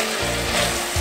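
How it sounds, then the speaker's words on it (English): Marinated beef chunks sauté in a pan with a dense, close sizzle and a low rumbling hiss throughout the brief moment. "What we are doing here is we are sauteing the beef on all 4 sides."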